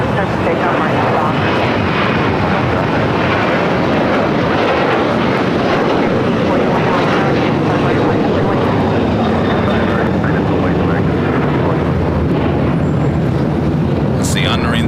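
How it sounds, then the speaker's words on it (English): An Alaska Airlines Boeing 737-900ER takes off at LAX with a loud, sustained jet-engine roar that fills the scene for about fifteen seconds, holding strong throughout with a faint whine riding above it. "Special livery with Alaska. It's a 737-900ER."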